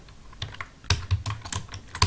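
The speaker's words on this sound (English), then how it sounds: "So I'm just simply typing here" Fingers tap on a computer keyboard in quick, irregular clusters of close, crisp clicks, with no voice over them.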